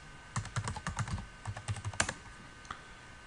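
Rapid keystrokes on a computer keyboard as Linux commands are typed to switch to the root user, a close, uneven burst of clicks with brief pauses and one sharper key strike near the end.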